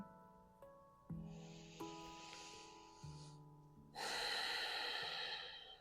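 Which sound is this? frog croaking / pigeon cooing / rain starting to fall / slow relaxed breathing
slow relaxed breathing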